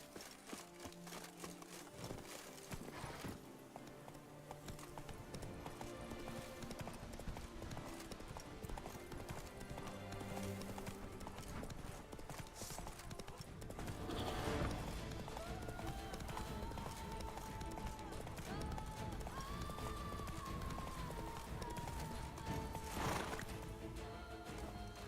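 Horse Roach galloping in The Witcher 3, steady clip-clop hoofbeats running throughout with occasional neighs and a voice speaking briefly over the action.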